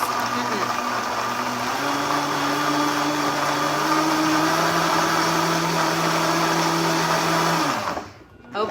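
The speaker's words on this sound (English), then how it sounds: "make sure you blend it long enough" A blender crushing ice whirs loudly and steadily, its motor pitch rising slightly as it grinds, then cuts off abruptly near the end.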